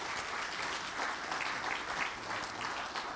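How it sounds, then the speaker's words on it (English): Audience applause at a university tenth-anniversary celebration: a steady, dense wash of many hands clapping at a moderate distance, sustained evenly for the whole stretch with no speech over it. "A round of applause, please."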